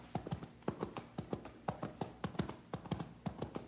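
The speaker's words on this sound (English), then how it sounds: "hear that? It sounds like a horse." Rhythmic clip-clop of a horse's hooves on a hard surface, approaching, steady and fairly close, with sharp regular strikes throughout and no talking.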